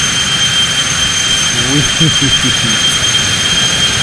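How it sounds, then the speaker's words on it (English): Airliner jet engines roar in full reverse thrust after touchdown in the X-Plane 12 flight simulator, a loud steady whine with rising and falling squeals partway through. "Alright, the reversers are deployed. Let's hit full reverse."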